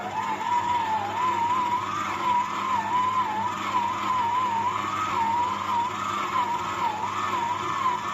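A stand mixer kneads dough for Iraqi kleicha at high speed, its motor giving a loud, continuous whine that wobbles steadily in pitch from start to finish, with no voices.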